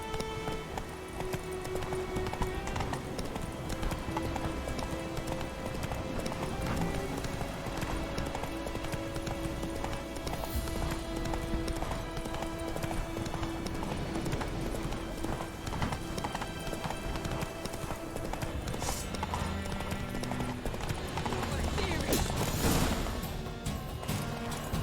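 A horse gallops in The Witcher 3: Wild Hunt, rapid hoofbeats pounding in a steady rhythm for the whole stretch, joined by game sound effects and a short speaking voice.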